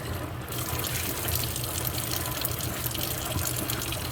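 Tap water gushes steadily into a rock tumbler barrel being rinsed out between stages, a close, loud, unbroken splashing rush with no voices.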